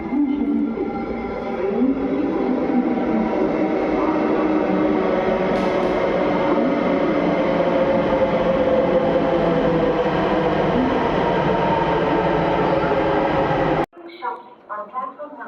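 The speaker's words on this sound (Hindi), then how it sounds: "सामने से मेट्रो आ रही है" A metro train arriving at a Delhi station rumbles steadily and loudly for most of the stretch, a dense mechanical roar, then cuts off abruptly near the end as brief voices follow.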